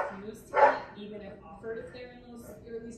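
A dog gives a sharp bark followed by softer yips and whines from a small pack of dogs nearby, mixed with people talking.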